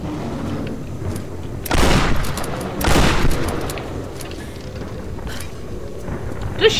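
Bursts of rapid gunfire in the Tomb Raider video game, two loud heavy volleys standing out over a steady low rumble of background fire, with no talking.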